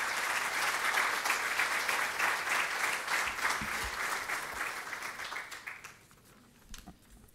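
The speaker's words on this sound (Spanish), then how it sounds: "Un aplauso fuerte para él" An audience applauds the vice-rector of Universidad San Martín de Porres at a law thesis book presentation, steady dense clapping that fades out over the last second or two.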